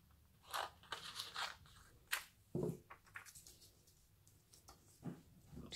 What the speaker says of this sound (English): So we'll just cut another piece of vellum.